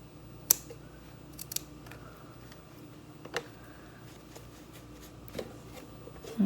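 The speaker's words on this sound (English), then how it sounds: "So I'm going to do another cut there. And I'm just going to cut some of this away" Scissors snipping fabric scraps for a Christmas ornament, with a few sharp, isolated cuts spaced over several seconds against a quiet room and a faint rustle at the end.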